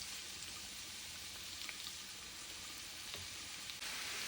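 Onion rings fry in olive oil in a pan, a faint, steady crackling sizzle with scattered tiny pops throughout and no voices.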